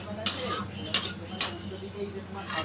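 Cooked potato curry is poured from a pan into a dish, with three sharp metallic clinks of a utensil against cookware spaced about half a second apart over a low background hum.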